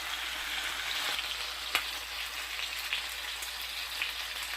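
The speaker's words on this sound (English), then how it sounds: "Now we're going to take our lovely oxtails and let them brown in the hot oil." Oxtails browning in hot oil in a cast iron pan for Nicaraguan black bean soup, a steady close crackling sizzle throughout with a few sharper pops and no voices.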